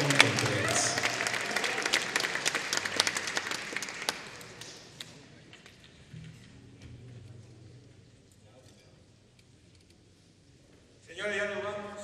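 Audience at a jazz concert breaks into loud, dense applause that tapers off over several seconds into quiet room sound with scattered murmurs, before a voice speaks near the end.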